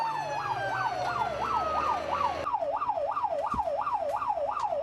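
A fire engine's wailing siren sounds continuously while responding to a dispatch call, rising and falling in a fast, steady cycle, loud and close, then switching to a quicker warble partway through with traffic noise underneath.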